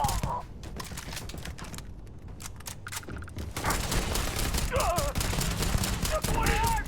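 Gunfire from the video game Starfield, played on very hard mode: rapid, dense volleys of shots that build into a loud, continuous fusillade, with a voice talking at times.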